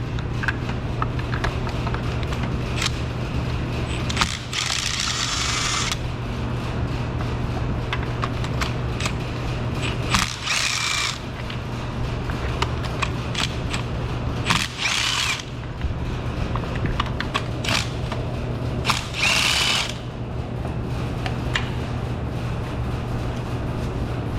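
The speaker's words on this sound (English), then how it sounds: "to remove the spark plugs, we're going to use our 5/8 deep socket attached to a 6-inch extension" A ratchet on a 5/8 deep socket and 6-inch extension loosens spark plugs on a Dodge Stratus, giving close, repeated bursts of rapid clicking separated by brief pauses over a steady low hum.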